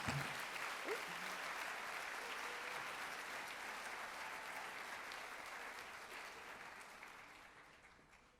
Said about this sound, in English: please join me in welcoming Dr. Luis Jimenez Inoa as our 2020 Faculty in Residence